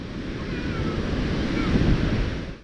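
Sea waves break on Unniyal beach at Tirur, Kerala, in a close, continuous rushing roar. Wind buffets the microphone, and the surge swells slightly before cutting off.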